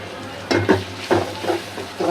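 Ginger-garlic paste with turmeric and chili fries in a pan, a close sizzle punctuated by a few quick stirring scrapes in short bursts, with a faint voice in the background.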